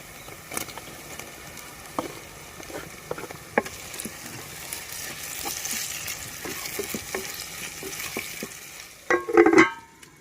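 Onion, green chilli and tomato pieces fry in a pan for an Andhra-style small fish curry, a soft continuous sizzle with scattered light taps and stirring clicks, ending in a brief louder clatter of a utensil against the pan.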